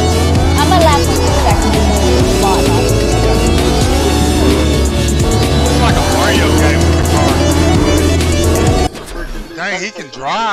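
Car engine roaring in a Fortnite match, loud and continuous with shifting revs and tire noise, music and chatter layered over it, then cutting abruptly to quieter sounds near the end.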